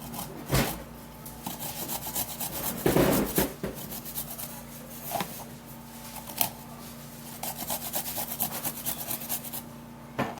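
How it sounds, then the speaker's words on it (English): Garlic being grated by hand, a soft rasping rub in short bursts with pauses between strokes, fairly close and moderately quiet, no talking. "So this is okay, is to grate the garlic also."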